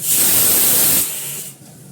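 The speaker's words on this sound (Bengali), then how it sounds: "পুরো ভেজগুলো আমি ফ্রাই করে দিলাম।" Vegetables such as cauliflower, carrot, potato and beans frying in a kadai with very little oil for chowmein, a loud steady sizzling hiss that drops abruptly partway through to a quieter simmer.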